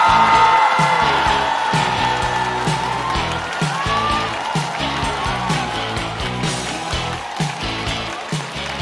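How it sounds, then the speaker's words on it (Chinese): A live stand-up comedy audience at the Rock&Roast talk show claps and cheers as a comedian walks on stage, with continuous applause and whoops over music, slowly easing off. "掌声欢迎鸟鸟"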